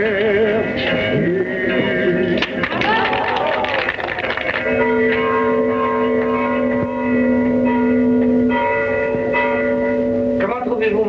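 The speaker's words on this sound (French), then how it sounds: "sentez-vous mon carillon, monsieur le curé? Un tout petit peu fêlé." Church bells of a slightly cracked carillon ring steadily and loudly, sustained tones overlapping with bright struck partials, while a voice speaks over the ringing.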